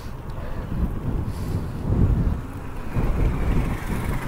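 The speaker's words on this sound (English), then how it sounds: "there's a pretty good wind blowing in here" Strong wind blows at the town marina in Guilford, Connecticut, buffeting the microphone with a loud, continuous low rumble that surges and eases in gusts, with no voices.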